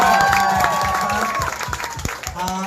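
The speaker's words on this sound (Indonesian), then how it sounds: "saya minta kita kasih tepuk tangan lagi untuk peserta" Applause from a crowd for a Moyo dance performer at a talent show in Lahewa, North Nias, 2022, heard as a continuous clapping wash under loud, droning music with a steady low beat throughout.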